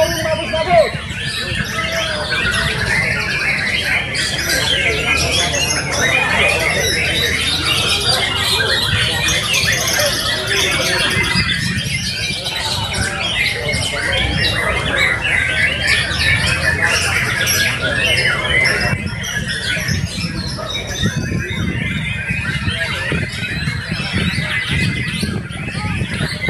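White-rumped shama (murai batu) singing at a crowded bird contest, a continuous stream of chirps and squawks layered with other birds and a steady murmur of crowd chatter.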